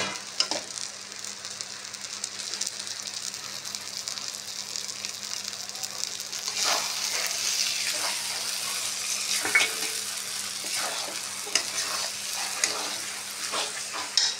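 Chopped onion sizzles and fries in a hot pan for a masala-filled capsicum dish, a steady loud crackling hiss with occasional clinks and stirring scrapes rising midway.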